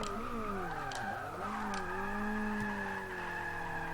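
A car in the racing game Forza 6 brakes and downshifts into second gear, becoming unsettled and skidding. A continuous engine drone swoops down and back up in pitch, with tyre squeal and a few sharp clicks over it.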